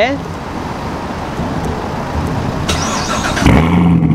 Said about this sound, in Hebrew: אז אפשר להתניע אותו דרך השלט. אז שתי לחיצות ו